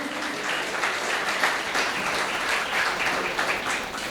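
A crowd at a certificate ceremony for computer-class students claps steadily, a dense continuous round of applause at moderate loudness with no talking.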